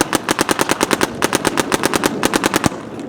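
An Etha 2 paintball marker fed by a Pal loader fires a rapid string of about twenty sharp pops in quick, slightly uneven bursts, close and loud, ending with one last shot.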